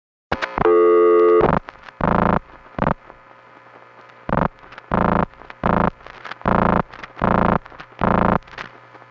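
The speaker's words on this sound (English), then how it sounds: "get the Crossbar Tandem vacant code recordings from Calgary and then Regina" Crossbar tandem vacant-code recording tones from a Calgary long-distance route, 1976: a stacked multi-tone chirp, then a series of evenly spaced loud tone bursts with short gaps, clear and close over a faint hum.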